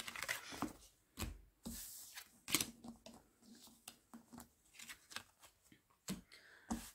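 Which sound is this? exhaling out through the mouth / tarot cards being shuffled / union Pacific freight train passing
tarot cards being shuffled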